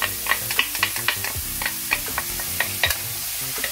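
Chopped bell pepper, scallion and thyme sizzle in a hot pan for a spicy Jamaican salmon dish, with a steady frying hiss and quick, uneven clicks and scrapes of stirring close by.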